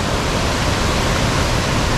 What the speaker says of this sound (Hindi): ये आप देखें ऊपर दूर पहाड़ों से पानी आ रहा है आबशार का।